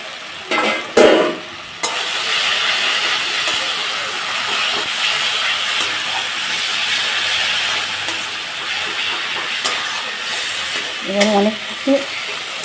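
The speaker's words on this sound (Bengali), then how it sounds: "একটু বেশি করে কষে নেব যতক্ষণ না তেল ছেড়ে যাচ্ছে" Bengali fish curry masala made with bhola fish is stirred and fried in oil in a pan, giving a steady, loud, close hiss and sizzle with occasional scraping and clinking of the spoon, with no talking.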